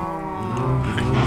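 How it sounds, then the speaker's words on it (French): A cow in a survival video game lets out one long, low moo that swells slightly toward the end, close and clear. "La vache elle est dehors, oui."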